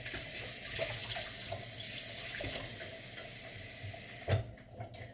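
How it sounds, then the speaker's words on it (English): Tap water runs steadily into a sink or bowl while more water is added to a soy-based Korean marinated egg mixture, a continuous close hiss that cuts off sharply near the end, followed by a brief clunk. "I'm gonna add just a little more water."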